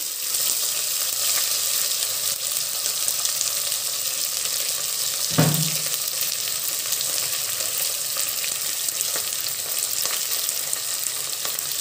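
Chopped onions frying for tomato rice give a steady, loud, close sizzle throughout, with one brief metallic knock near the middle and no talking.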